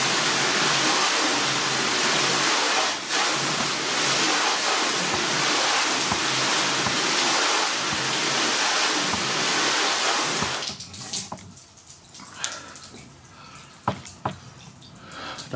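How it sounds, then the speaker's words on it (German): A garden hose rinses shampoo off a car during a wash-and-wax test: a loud, dense, continuous spray of water for about ten seconds, then it stops, leaving scattered drips and small splashes. "So, wir gehen jetzt mit dem Schlauch wieder drüber."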